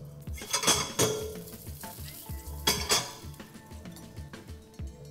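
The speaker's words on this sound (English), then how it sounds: "Our oil is hot, and I'm just gonna put in the onions." Onions going into hot oil on medium heat for a chicken burger, with a steady sizzle beneath repeated clatter of a utensil against a pan and a couple of louder clanks.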